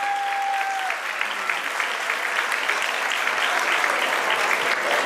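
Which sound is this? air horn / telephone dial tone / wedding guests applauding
wedding guests applauding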